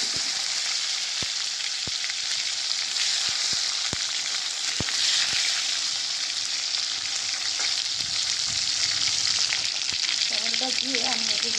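Cumin seeds, dried chili and bay leaf crackle in hot oil, then chopped tomatoes go in, giving a steady close sizzle with occasional sharp pops and stirring clinks, no voices.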